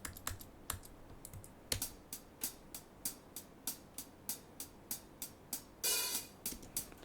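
Crisp, evenly spaced hi-hat ticks in a Logic Pro remake of a pop song repeat in a steady rhythmic pattern, with a longer open hat wash near the end; quiet and dry.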